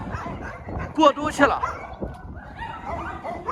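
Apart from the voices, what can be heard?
dogs barking indoors during snowstorm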